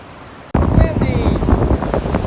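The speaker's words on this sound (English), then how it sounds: "Windy!" Strong wind buffets the microphone on the beach at Seaside, Oregon, starting abruptly as a loud, continuous rumbling roar with no voices.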